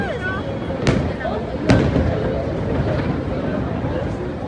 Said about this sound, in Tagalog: parang may fireworks na lang doon